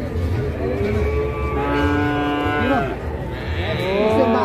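A thin, collapsed cow at a crowded Indonesian livestock market moos in long, drawn-out lowing calls, close by, over a busy background of crowd murmur and voices.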